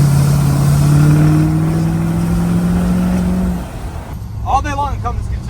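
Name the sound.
L5P Duramax diesel truck driving and revving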